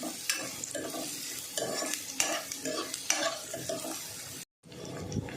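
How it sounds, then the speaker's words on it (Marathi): Onion and green chili fry in a pan with a loud, steady sizzle as a spoon scrapes and stirs rhythmically, then the sound cuts out for a moment before resuming. "आता कांदा आणि हिरवी मिरची टाकली व्यवस्थित जरा लाल करून द्यायचं"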